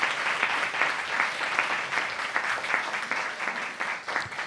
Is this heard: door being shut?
no